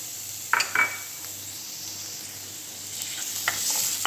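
Garlic sizzles steadily in a hot pan with a bright, close hiss, broken by a few light clinks of a utensil as it is stirred, with no talking.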